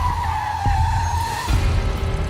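A car's tires squeal in one sustained, fairly loud skid lasting over a second as it brakes hard to a stop before a bicycle, followed by a low rumble of the engine and road noise.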